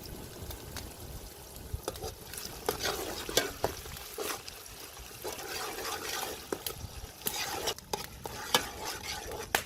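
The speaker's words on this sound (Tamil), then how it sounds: "உள்ளி வெங்காயம் பச்சை மிளகாய் எல்லாம் வதங்கி கொண்டிருக்க" Garlic, onion and chopped green chillies sauté in a pan for Sri Lankan mutton kothu roti, with a continuous quiet sizzle under frequent irregular stirring scrapes and clinks.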